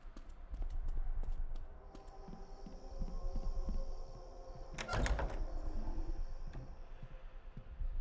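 Hollow hoof clip-clops of a horse in the horror game Dead Take, a steady run of quiet taps with a sharp clattering knock midway over faint ambient tone.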